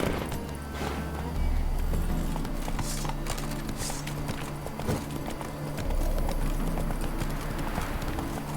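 Hooves of the horse Roach in The Witcher 3: Wild Hunt, Hearts of Stone, beat a steady galloping clip-clop. It is close and continuous over a game soundscape.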